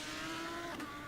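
A race car engine in a racing game on the Nordschleife, a steady, brief engine drone under power with no talking.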